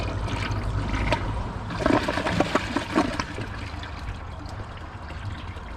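A Kohler Class 5 toilet flushes in one steady rushing surge of water that swells briefly in the middle and then settles into a continuous draining wash, heard close with no voices.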